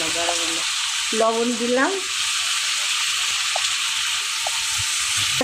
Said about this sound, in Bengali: আলুটা ছেড়ে দিলাম, আলুটা ভেজে নেব, লাল করে ভেজে নেব।